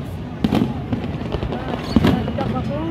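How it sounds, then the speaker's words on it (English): Fourth of July fireworks burst outdoors in a few sharp cracks and booms, two louder blasts standing out over a busy crowd murmur and voices. "fireworks."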